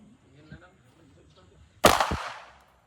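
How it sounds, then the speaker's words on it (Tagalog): A single sharp, loud gunshot rings out at a shooting range in the Philippines. It is close and cracking, with a decaying tail, and follows soft background talk. "Dahan-dahan, hayaan mong kusang pumutok."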